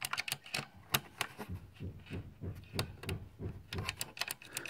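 Rapid clicks of a computer keyboard with a loose, unscrewed switch fill the clip, a dense uneven patter of sharp close taps with short bursts and brief pauses, with no talking.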